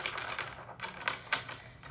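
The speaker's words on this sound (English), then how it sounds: "shuffling the cards, wasn't feeling anything super romantic" A deck of tarot cards being shuffled by hand during a reading, giving soft, quiet papery riffles and scrapes in several short bursts, close to the listener with no talking.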